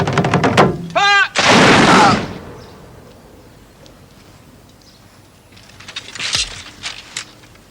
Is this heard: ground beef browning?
no